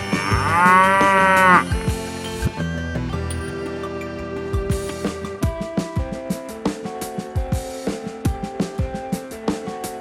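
Cows on a farm mooing, a long loud low moo up close at the start, then a busy mix of repeated sharp knocks and other farm sounds in a steady rhythm.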